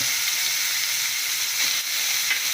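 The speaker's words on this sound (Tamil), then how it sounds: "கருவேப்பிலை நல்லா வதங்கட்டும்" Curry leaves sautéing in hot oil for vegetable kurma, a steady, close, loud sizzle and hiss that runs continuously without talking.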